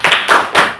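Three quick, sharp claps in a steady rhythm, close and loud, as children in a classroom clap along to a clapping chant.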